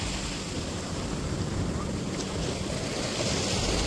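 Waves roll onto an uncrowded beach in Goa, a dense, constant roar of surf mixed with heavy wind buffeting the microphone, steady and loud throughout with no clear voices.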